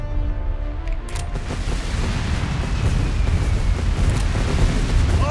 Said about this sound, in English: Ships, open fire!